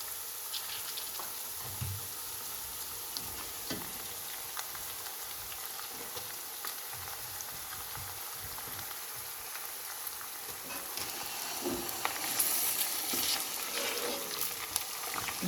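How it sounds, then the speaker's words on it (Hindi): Meat being fried in a pot for Kabuli pulao, a steady soft sizzle with stirring scrapes, growing a little louder near the end, heard alone without talk. "अब हम इसमें अपना गोश्त डाल देंगे।"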